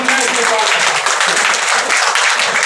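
Loud, dense applause from an audience at a Bhiwandi Congress minority cell gathering fills the whole stretch, a steady wash of clapping with voices faintly mixed in.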